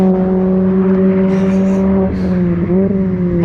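Honda Civic EP3 four-cylinder engine, a motorsport favorite that revs past 9000 rpm, held at a loud steady high-rpm drone with strong harmonics and a brief dip and recovery, no talk.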